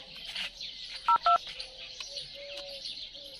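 A telephone keypad gives two short, loud dialing tones in quick succession over faint background birdsong.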